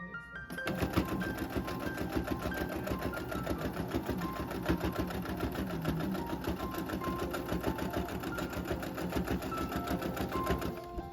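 A sewing machine runs steadily, stitching rows of a rag quilt with a fast, even mechanical chatter that continues almost unbroken throughout and sits close and clear.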